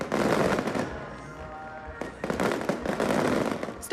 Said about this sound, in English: Dragon dances, fireworks, and explosions, all part of celebrating Lantern Festival in Taiwan.